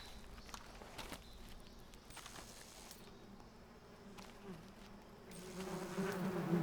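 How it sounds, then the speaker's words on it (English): Hornets or wasps buzz in the stealth game Metal Gear Solid Delta: Snake Eater, a faint, steady swarm drone that grows louder toward the end, with occasional soft game clicks. "Not bees, hornets. Actually, they might be wasps, if I remember correctly."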